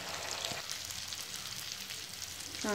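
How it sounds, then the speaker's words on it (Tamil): Fish frying in hot oil for a Tamil-style fish fry, a continuous close sizzle and crackle at a steady level, with no talk. "இப்போ நான் மீனை எண்ணெயில் போட்டாச்சு."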